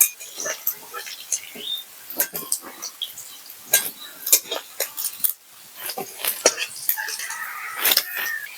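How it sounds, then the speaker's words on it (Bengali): Fried shrimp are lifted from a pan, with sharp irregular clinks and scrapes of a metal spoon against cookware, close and fairly loud, among faint background voices. "চিংড়ি মাছগুলো ভাজা হয়ে গেছে এবার আমি তুলে নেব"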